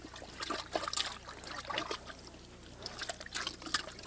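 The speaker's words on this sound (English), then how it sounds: "throw a little water in it" Water trickles and splashes faintly into the cavity of a field-dressed deer carcass, a steady low dribbling with brief brighter spatters, no voices.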